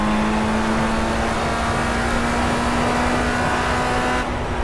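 Open-wheel race car engine in Project Cars at Sonoma Raceway, a steady high-pitched drone held at constant revs throughout, loud and continuous with no talk.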